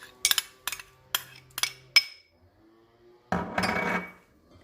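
Metal spoon clinks and scrapes in a bowl while cumin, salt, dried coriander, crushed red chilli and ginger-garlic paste are mixed into a fish pakora marinade, several sharp taps early on followed by a louder stretch of scraping.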